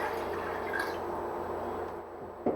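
Water is poured into a pan over deboned chicken with bay leaves and garlic, a soft, steady close trickle and splash that tapers off near the end, with a brief knock.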